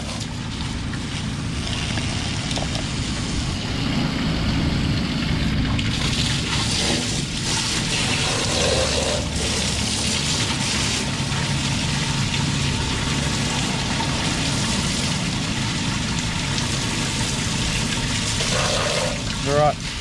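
Rushing water from a jetting or rinsing machine washing down a drain connection in a manhole, a loud continuous gush with mechanical hum throughout, brief voices at the end.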